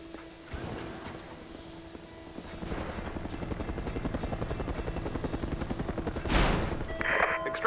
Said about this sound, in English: Extraction chopper is here.